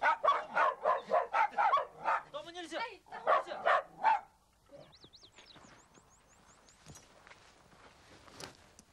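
Dogs bark at a tiger in snowy country, a quick run of loud, rhythmic barks and yips up close, then a pause and softer whimpers and scattered faint sounds.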